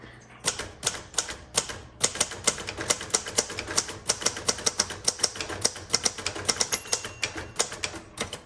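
Rapid, crisp keystrokes on a 1977 Royal Sabre manual typewriter, each strike a sharp, close clack in a steady, busy rhythm with a few brief pauses, with no voices over it.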